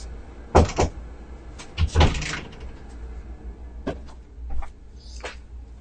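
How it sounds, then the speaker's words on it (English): A door bangs shut twice in quick succession, followed by softer knocks and handling sounds in a noisy room at a kids' karate class. "I'm going to close the door because it's noisy in here."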